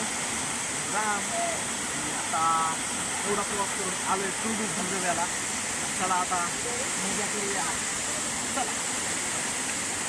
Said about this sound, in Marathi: ह्या धबधब्यातून कोसळणाऱ्या पाण्याचा आवाज